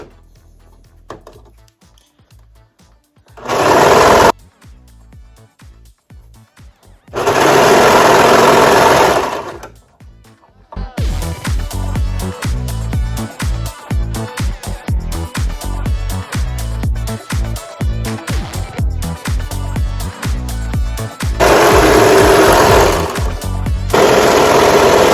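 A sewing machine stitches a T-shirt in bursts, with short runs followed by one long continuous stretch of rapid mechanical clatter, close and loud, separated by quiet pauses.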